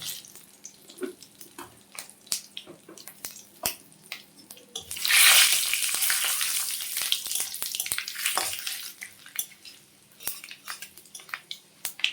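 A spoonful of panch phoron five-spice seeds hits hot oil for a mushroom vegetable dish, bursting into a loud close sizzle that fades over several seconds between light utensil clinks.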